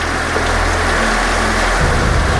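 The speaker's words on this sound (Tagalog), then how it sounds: "Bumuhos ho yung malakas na ulan." Steady, loud broadband hiss of heavy rain, continuous and unbroken, with a low engine-like rumble underneath.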